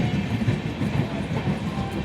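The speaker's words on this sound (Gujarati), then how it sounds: "બહુ લાંબી ટ્રેન હતી નહીં?" A long train rolls past close by, a steady loud rumble with repeated clickety-clack of wheels over the rails and no voices.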